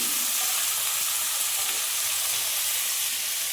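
Potatoes frying in a pan give a steady, even sizzle that stays constant throughout, with no talking.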